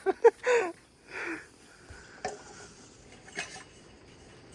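Dishes clink and scrape in short, scattered bursts, with soft splashes and rubbing between them, close by and fairly quiet.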